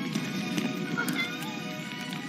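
A cat meows once, faintly, amid a dense, noisy scene from a burning-house rescue, with a steady rumble and scattered bangs behind it.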